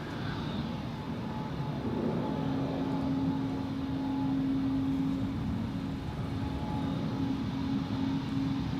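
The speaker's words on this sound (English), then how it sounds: "Another E2 Embraer" An Embraer E2 jet departs from the Polderbaan runway at Amsterdam on a sunny morning, a moderate, steady engine rumble with a thin humming tone running through the middle, heard at some distance without voices.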